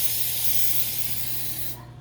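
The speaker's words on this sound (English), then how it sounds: "it's basically the cooking spray. So I'm just gonna put some in my container so my thing doesn't stick" Cooking spray hisses from a can into a baking container as it is greased, one sustained close spray that cuts off sharply near the end.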